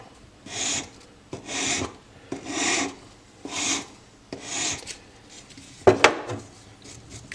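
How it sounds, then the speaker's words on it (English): A 320 buff stick sands along the curved scalloped spacer of a handmade dagger in five steady back-and-forth rasping strokes, close and quiet, followed by a brief sharp clack. "To work it off, I start using a 320 buff stick, following that curvature"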